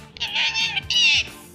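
A talking pet parrot mimics a cat's meow, giving two drawn-out, high, wavering meows with a short gap between them, close and loud.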